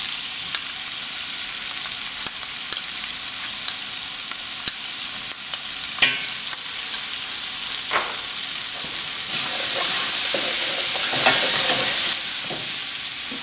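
Onions and carrots fry in a pan for osso buco, a soft sizzle broken by sharp clicks and scrapes of stirring, then the hiss swells louder as garlic is added, with no talk.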